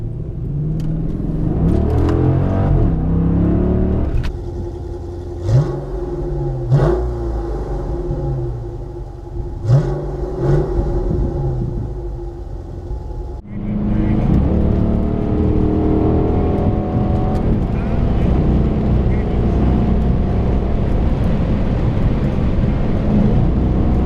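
Dodge Challenger SRT V8 engine revving: a loud, deep rumbling exhaust that rises in several sharp blips over a steady throb, then settles into a sustained heavy drone, with no voices.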